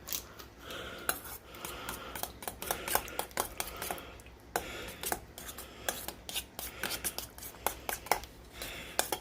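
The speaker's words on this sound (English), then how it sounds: "Alright, and then we are going to stir this up. I'm going to use the same spoon I had over here." A metal spoon stirs fruit juice in a bowl for a fruit pizza, giving repeated clinks and scraping rubs against the container in an uneven rhythm, close and fairly quiet, with no talking.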